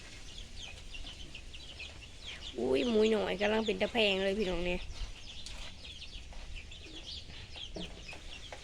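Chickens in a farm setting alongside a pig pen give a burst of clucking and rooster-like calls lasting a couple of seconds, fairly close, with someone talking in Thai before and after.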